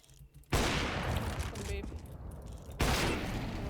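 Bursts of rapid gunfire crack out in a FACEIT competitive shooter match, with a loud volley, a brief lull and another sustained burst, close and dense.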